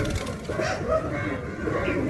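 A Jack racing pigeon cooing close by, soft throaty warbles rolling over a low, busy background.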